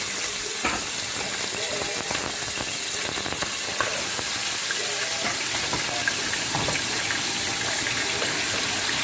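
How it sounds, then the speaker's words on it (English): Steady, dense sizzling and crackling of goat meat frying in hot oil, with occasional sharp pops from moisture throughout. "it's popping because of the moisture, and then of course there's like the hot oil"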